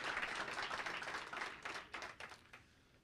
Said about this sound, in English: Chessie, they're all clapping for you.